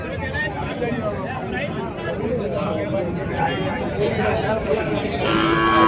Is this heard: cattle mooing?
yes